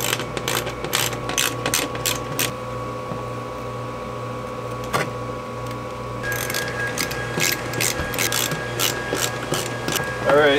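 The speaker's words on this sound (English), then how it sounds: "we'll go ahead and remove bolts" Bolts come out of an aluminum jon boat deck with bursts of rapid ratcheting clicks and metallic tapping, close and fairly loud over a steady background hum.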